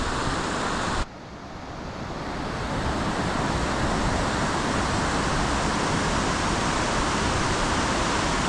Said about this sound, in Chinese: 小溪